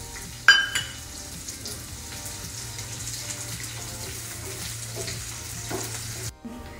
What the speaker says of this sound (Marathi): आता आपल्याला कांदाही भाजून घ्यायचा आहे।